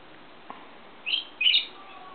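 A rainbow lorikeet feeding in a Moonlight Grevillea gives two shrill, brief squawks in quick succession, moderately close, after a faint click, with no voices.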